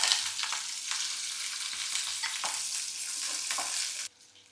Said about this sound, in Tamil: இப்போ பாருங்கள், வெங்காயம் ஓரளவுக்கு வதங்கிருச்சு.